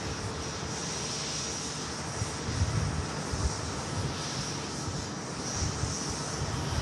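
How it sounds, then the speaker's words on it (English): TUI jet airliner departing Manchester Airport, a steady broadband engine roar heard from a distance with a faint high whine, swelling slightly as it climbs, no voices. "See the TUI departing to Alicante at the back of the shot."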